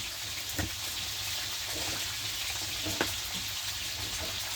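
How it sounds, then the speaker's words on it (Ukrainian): Quiet, steady sizzling with scattered small pops and crackles from pork frying in a pan, heard up close with no voices. "І кидаємо на сковорідку, хай це все діло жариться, вижарюється."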